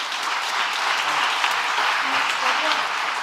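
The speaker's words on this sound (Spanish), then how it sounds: "Un aplauso para ella." Audience applause at a national congress lecture in Spain, a steady dense clapping from a seated crowd that fills the whole stretch at even loudness, with no pauses.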